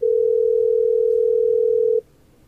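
A single steady telephone dialing tone from a Gmail phone call, one continuous pure tone lasting about two seconds, then stopping abruptly into quiet background.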